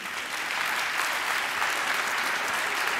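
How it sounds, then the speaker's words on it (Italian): An audience at a business CEO summit applauds steadily, a dense uniform clapping that fills the room without any speech. "Un bel applauso anche per lui."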